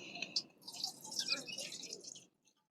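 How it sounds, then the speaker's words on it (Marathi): Finely chopped mutton is washed by hand in a bowl of water, giving soft splashing and dripping at close range that swells and then fades to quiet. "चांगलं आपलं एक दोन पाण्याने धुयाचं"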